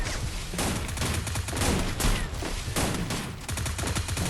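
Rapid, loud gunfire in a shooter game, sustained volleys with short gaps, close and dense throughout the few seconds.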